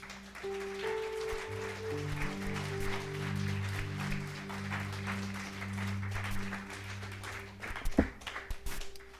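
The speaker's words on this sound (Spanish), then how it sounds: "Den un aplauso al Señor." Congregation applauding in a church during a Spanish-language evangelical service. The steady clapping runs under sustained keyboard chords, with a sharper burst of claps near the end.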